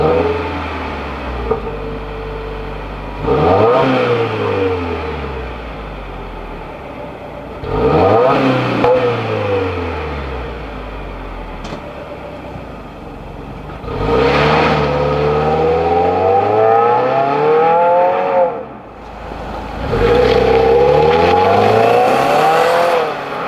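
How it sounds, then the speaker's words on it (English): A Subaru fitted from the factory with the Subaru Performance Sport exhaust, heard from outside as it revs in about four rising and falling bursts separated by idle, loud and close with no talking. "this car came from the factory with the Subaru Performance Sport exhaust, which isn't a bad sounding system"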